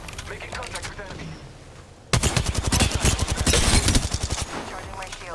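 Gunfire in the shooter Apex Legends, starting as faint distant shots and then breaking into a loud, fast automatic burst for a few seconds, with in-game voice lines mixed in.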